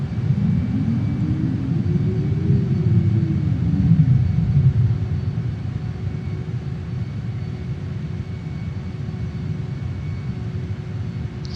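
Saab JAS 39 Gripen jet with landing gear lowered in Microsoft Flight Simulator 2020, a steady low engine rumble and airflow roar filling the whole stretch, with a faint rising tonal whine briefly swelling near the start.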